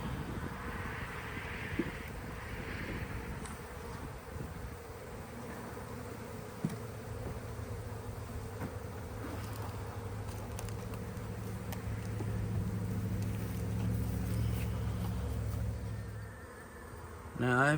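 Honey bees swarm around an opened beehive during a hive change, a dense, continuous buzzing drone close by that swells louder toward the end.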